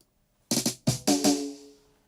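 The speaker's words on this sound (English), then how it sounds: "when I have this drums, they're dry and they sound like this" A dry drum roll with no reverb: four or five quick tight hits in a short burst, close and punchy, the last one ringing briefly before fading.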